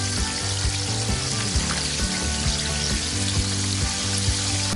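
Chicken fries in hot oil with a dense, continuous close-up sizzle and crackle, steady and loud throughout with faint popping; no voices are heard.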